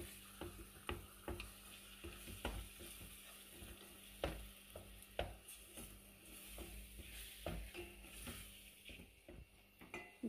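Potatoes with tomatoes added, frying in a pan for a traditional rougag tajine, give a steady, fairly faint sizzle broken by frequent light stirring taps and clinks.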